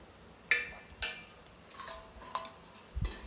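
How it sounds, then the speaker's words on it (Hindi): A lid set over a bowl of idli batter, heard as a few light, close metallic clinks and taps spread over a few seconds, ending in a soft low thud, with no voices. "अब मैं इसे ढक दूँगी।"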